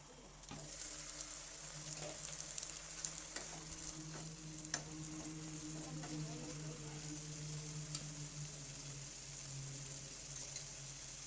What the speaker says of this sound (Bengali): এরপর এক থেকে দু মিনিটের মতো ঢাকা দিয়ে একটু সেদ্ধ করে নেব আলুটা